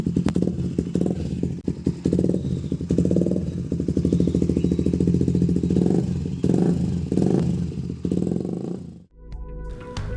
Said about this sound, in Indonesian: karena Satria F memiliki suara yang khas